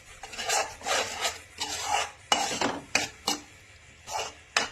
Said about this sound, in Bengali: একটু নাড়াচাড়া করে নিই।